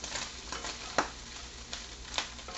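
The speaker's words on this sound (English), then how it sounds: "And we're going to mix this up really good." Taco casserole ingredients seasoned with salt and pepper are mixed by hand, giving a soft, steady stirring and scraping texture with a few sharper clinks of the utensil against the dish, close and fairly quiet.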